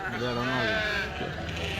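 Sheep and lambs bleat at a sheep and goat market in Kadiri, one drawn-out wavering bleat standing close and loud amid crowd noise.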